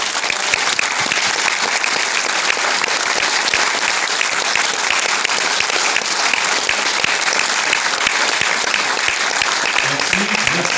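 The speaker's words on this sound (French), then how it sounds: "Voilà, merci à vous tous, on peut vous applaudir." Sustained, loud applause from an audience thanking volunteers at an Armenian community honour ceremony in France, dense and even clapping filling the whole stretch, with faint crowd voices underneath.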